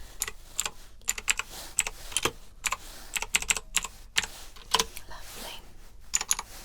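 Computer keyboard typing in a quiet ASMR setting: close, crisp keystrokes in irregular quick bursts with short pauses between runs.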